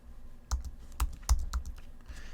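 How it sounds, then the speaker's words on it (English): Keys clack on a computer keyboard in a Windows search box, about five distinct close taps spaced roughly half a second apart in a quiet room. "start typing environment"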